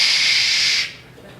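A voice imitates a coffee maker's strange noise, producing a loud, steady hiss for under a second that cuts off abruptly into quiet.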